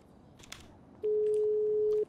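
A telephone in a video game sounds one steady electronic tone lasting about a second, loud and unbroken, following a quiet stretch of faint scattered clicks.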